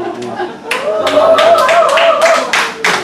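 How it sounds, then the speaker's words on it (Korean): An audience at a church mission conference in Hawaii breaks into lively clapping that swells after a brief pause and holds steady, with a voice speaking over the applause. "박수."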